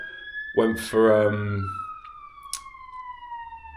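A wailing siren sweeps slowly downward in pitch at moderate distance while a person talks over it.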